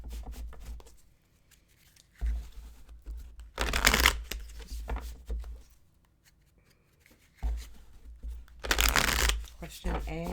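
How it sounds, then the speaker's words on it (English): Tarot cards being shuffled by hand in two loud, papery bursts of riffling, separated by quieter rustling and handling of the deck, close up and with no talk. "I'm going to pull 3 cards for each"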